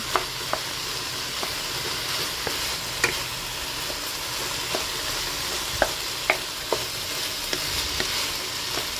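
Ginamos, a fermented fish paste, sizzles steadily in a pan while a utensil scrapes and taps the pan at irregular intervals, close and clear, with no speech.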